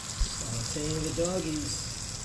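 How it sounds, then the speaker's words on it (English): Beef and cheese sausages sautéing in a pan over a low flame give a steady, fairly close hiss and sizzle, with a brief voiced murmur partway through. "Sauteing the doggies."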